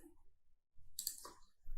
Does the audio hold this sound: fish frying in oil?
no